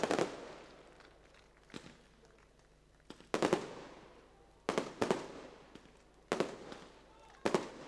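Fireworks burst repeatedly at an evening drift racing event, sharp cracking booms arriving in irregular clusters a second or two apart, loud and somewhat distant, with reverberant tails fading between blasts.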